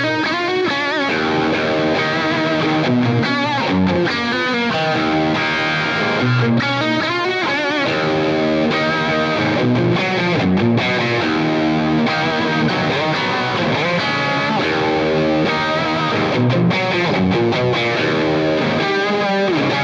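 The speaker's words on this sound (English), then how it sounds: "So with the Diamond Boost EQ and just a transparent boost without any EQ, it sounds like this." A distorted electric guitar pushed by a Diamond Boost EQ as a transparent boost into a Marshall Silver Jubilee amp chugs through tight palm-muted riffs and ringing chords, loud and continuous, with no talking.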